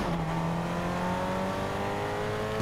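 A car driving fast through a town in Fortnite Chapter 4 Season 4, its engine a steady, loud drone with rising revs and a continuous whine throughout, with no talking.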